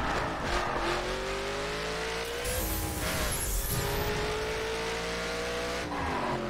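A Mercedes-Benz 300 SLR in The Crew roars steadily around Laguna Seca, its engine note climbing and dropping through gear shifts, with brief tire squeal in the corners and no talk over it.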